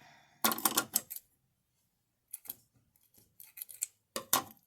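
Scissors snip through ribbon in a few short, crisp bursts, a cluster of quick cuts followed by quieter scattered snips and another sharp cut at the end, close up with no talking.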